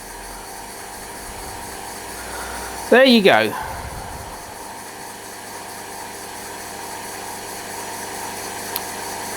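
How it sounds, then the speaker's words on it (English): A Weeden No. 3 model steam engine from the 1940s runs on compressed air, producing a soft, fast, steady mechanical chuffing and hiss that continues throughout, with a short spoken phrase partway through. "A nice example of a Weeden 3 running on compressed air"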